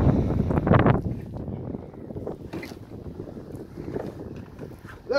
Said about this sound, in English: Putting up the sail.